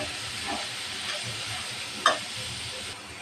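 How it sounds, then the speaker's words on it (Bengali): Chopped onions frying in a pan for a shrimp mash, giving a steady close sizzle and hiss with one brief sharp clink partway through. "পেঁয়াজগুলো ভাজে নেব।"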